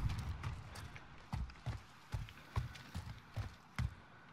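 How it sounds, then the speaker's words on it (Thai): Footsteps in Call of Duty: Modern Warfare, a quiet series of heavy thumping steps at an irregular walking pace over a faint background bed, with no voices. "เขาน่าจะรู้เสียงเท้าผมแล้วนะ"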